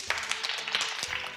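A group of children applauding in a church class game, a dense continuous patter of many hands with no voices over it.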